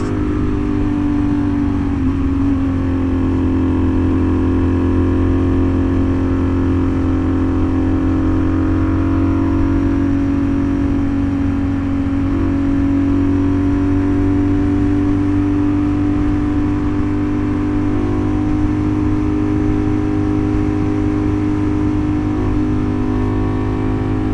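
Ducati naked Panigale motorcycle engine cruising around Houston, a steady loud droning hum with strong low harmonics and constant wind rush, even and unbroken, with only slight swells in pitch as the throttle shifts.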